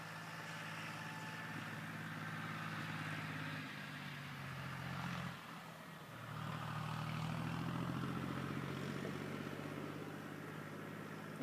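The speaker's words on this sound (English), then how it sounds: "You're probably going to hear the tractor go by." A tractor engine rumbles steadily at a moderate distance on a rural property in autumn, its drone shifting in pitch as it passes by, with no voices.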